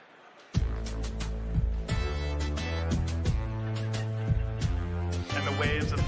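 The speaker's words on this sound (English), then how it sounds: "hear the most basic form of Warcraft 1 music on an FM synthesis card" Warcraft 1 game music rendered on an FM synthesis card with roughly eight-note polyphony, bright synthetic chords and a bass line starting after a brief quiet lead-in, steady and clear with no talk.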